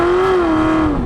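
A 1966 Ford Mustang engine holds a loud, close, sustained rev for about a second, its pitch rising slightly and then easing back down.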